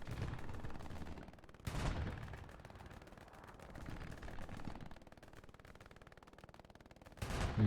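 Gunfire in the military shooter Squad: continuous rattling small-arms fire from several weapons at mid distance, with a few louder nearby bursts at irregular intervals.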